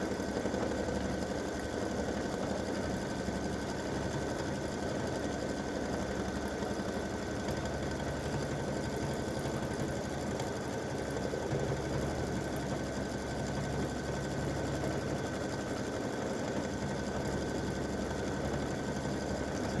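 An embroidery machine satin stitches an elf hat applique on a t-shirt or sweatshirt, producing a continuous, even, rapid mechanical hum and needle chatter throughout without pause.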